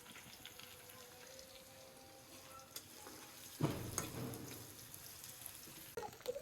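Onions fry in a wok-style pan. A quiet, continuous sizzle runs throughout, with a brief louder stirring scrape midway.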